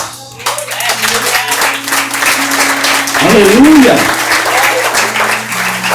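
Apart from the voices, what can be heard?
church audience applause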